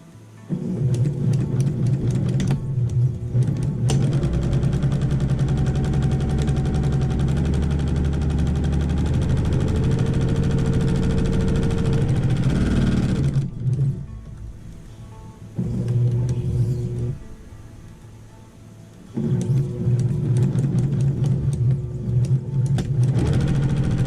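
Brother sewing machine stitching a windmill quilt, a steady loud mechanical whir that runs continuously, pauses briefly twice, then resumes, with no talking.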